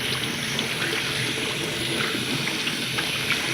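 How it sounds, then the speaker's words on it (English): Tap water runs steadily and close by over a person's hands in a home kitchen, a continuous even splashing hiss with no talk. "I'm washing my hands again."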